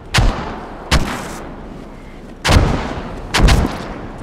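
Mortar rounds firing in the video game Squad: four heavy booming launches, two spaced early and two close together later, each loud, sharp and trailing off in rumble, with no talk.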